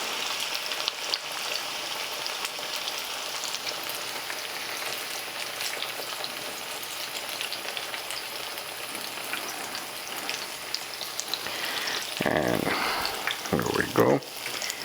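Sweet ripe plantain slices frying in hot oil, a dense continuous crackling sizzle throughout, with louder bubbling bursts near the end as more slices go in.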